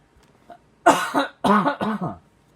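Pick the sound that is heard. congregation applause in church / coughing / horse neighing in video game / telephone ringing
coughing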